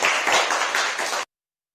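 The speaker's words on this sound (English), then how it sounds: "Clap your hands for them." Audience at a meeting clapping hands, a brisk burst of many close claps lasting about a second before stopping abruptly into silence.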